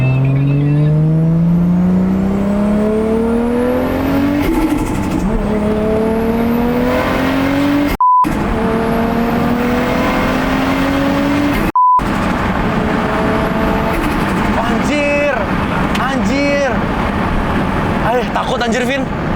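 A Toyota Supra MK4 accelerates hard in second gear, its loud engine note climbing steadily in pitch from inside the car, with the revs building continuously over the whole stretch.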